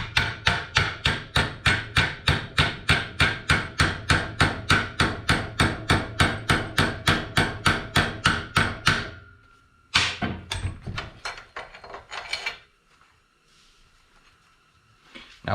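Hammer striking a small metal tab on a custom Corvette Z06 Powerglide shifter, a long fast run of loud, evenly spaced ringing blows, then a few heavier hits and a quiet tail.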